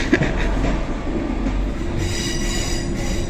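Steady rumble of a train ride from inside a railway carriage, with continuous wheel noise and faint squealing, close and constant throughout with no talking.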